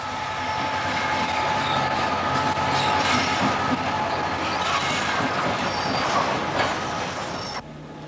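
A train passes steadily on rails, a loud continuous rumble with clickety-clack and faint wheel squeal that cuts off sharply near the end.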